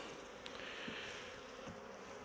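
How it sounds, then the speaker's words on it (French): A steady, faint buzz of honeybees hums continuously close by, like a swarm, with a couple of soft clicks and bumps in the background. "Il faut faire gaffe aux abeilles."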